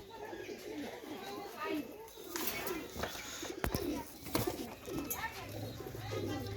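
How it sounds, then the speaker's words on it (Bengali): Nil dumba pigeons coo in soft, repeated low calls among rustling and brief knocks, with someone talking over them. "নীলদুম্বা কবুতর দেখে নিন"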